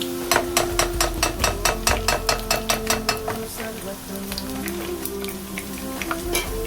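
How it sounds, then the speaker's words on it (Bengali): Green boondi for laddu fry in hot oil, with a rapid run of regular clinking taps against the vessel that give way to a busy, crackling sizzle of frying batter drops. "আমি এইভাবে করে গ্রিনগুলো ফ্রাই করে নেব"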